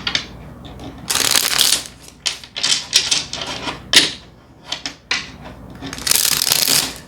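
A deck of cards is shuffled in several quick riffling bursts separated by short pauses, crisp and close.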